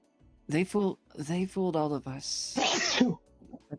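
A single sharp sneeze bursts out right after someone speaks, with a breathy burst at the end and quiet room tone around it.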